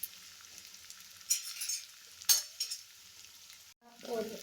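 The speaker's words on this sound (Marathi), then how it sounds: "हा कांदा चांगला फ्राय करून घ्यायचा" Finely chopped onions fry in a pan for an eggplant bharit, with soft sizzling and a few scraping stirs of a utensil, fairly quiet and without talk.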